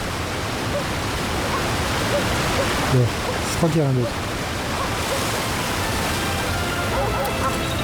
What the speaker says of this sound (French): c'est peut-être à cause de la cascade qui me gêne